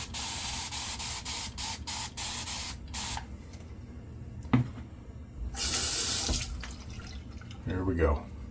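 Water sprayed onto a face in short bursts, with a run of quick close spritzes, a quieter stretch with faint clicks, then a longer hissing spray near the end, under a quiet room background.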